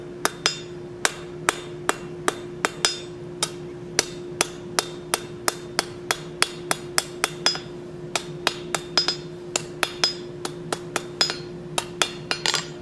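Blacksmith's hammer striking hot steel on an anvil while rounding off a plant hanger piece, a long run of sharp ringing blows at a fairly steady rhythm with a constant metallic ring between strikes.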